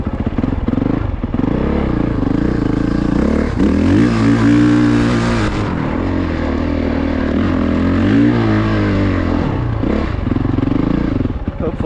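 An off-road vehicle engine at an off-road park, loud and close, holding high revs with rising and falling pitch in several sustained pulls, droning almost continuously throughout.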